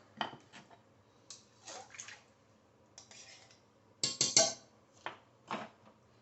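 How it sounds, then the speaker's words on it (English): Coconut milk pours and splashes into a pot for a Thai vegetable curry in short bursts, with light clinks of utensils against metal between pours, close and moderately quiet. "So let's put in the rest of the coconut milk."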